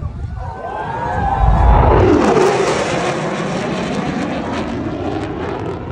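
An F-35B fighter jet passes at an air show, a loud engine roar that swells toward a peak and then trails off with a sweeping pitch shift, crowd noise faintly beneath.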